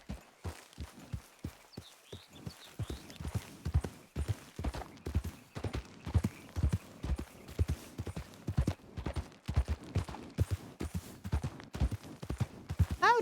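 Brown horse walking in a western roleplay video game, hooves clip-clopping in a steady, close, loud rhythm throughout, with a brief whinny-like sound early on.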